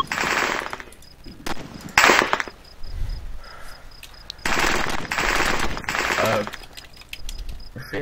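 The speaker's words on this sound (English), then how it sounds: "Who's machine gunning?" Machine gun fire in the tactical shooter game Arma comes in several loud rapid bursts separated by short pauses, with people talking faintly between them.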